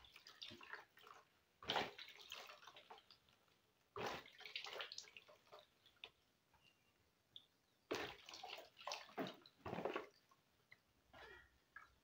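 Water splashes and pours in short bursts during washing, several separate gushes and trickles spaced a few seconds apart, close but fairly quiet, with faint handling noises between them.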